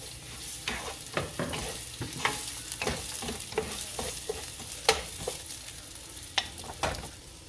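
Onion for pepper steak fries in a pan with a steady broadband sizzle, broken by frequent light scraping stirs, close and fairly loud, with no talk.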